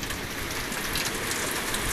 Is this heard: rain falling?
yes